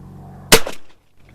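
A single sharp shot from a Rossi Match Pair gun, loud and close, with a short decaying echo, then near silence.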